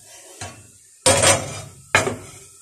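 Cooking pot of mutton biryani rice set back down on a stove, heard as three separate clanks: a light knock followed by two loud metallic impacts, each trailing off briefly, up close with no talk.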